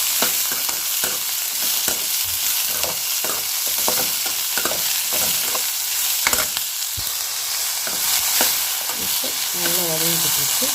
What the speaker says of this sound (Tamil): இந்த கொத்தவரங்காயில் சேர்த்து மிக்ஸ் பண்ணிக்கிறோம்